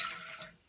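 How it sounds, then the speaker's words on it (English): Water pours into a kettle at a sink while rice is being made, a steady, close splashing stream that tapers off slightly toward the end of the short stretch. "Let's pour the water in the kettle."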